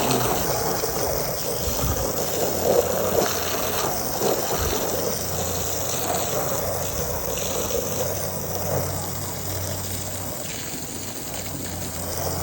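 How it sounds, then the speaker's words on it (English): Water runs steadily over a soaped alligator hide being rinsed during home tanning, a continuous close splashing wash with no pause. "just rinse all your soap off"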